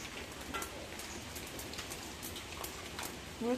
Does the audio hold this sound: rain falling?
yes